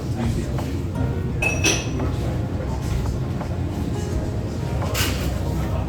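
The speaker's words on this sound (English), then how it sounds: "let's take it apart and let's put one of these filters" Parts of an Aeropress coffee maker clink and clatter as it is taken apart and a paper filter is fitted, with a few sharp plastic knocks and light rustling over soft background noise.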